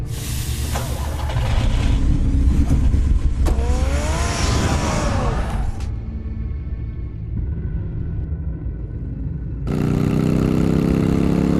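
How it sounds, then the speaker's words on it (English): A car engine in the Batman: The Telltale Series video game rumbles at mid pitch, running steadily and close at a loud level for most of the stretch, with a sweeping rise partway through and a renewed surge near the end. "Get the car ready, Alfred."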